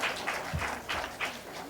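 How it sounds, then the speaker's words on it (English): Audience in a psychiatry conference hall applauds during a team quiz, a short burst of fairly sparse, rhythmic clapping at moderate volume, with a brief voice mixed in. "Can we please have a loud round of applause?"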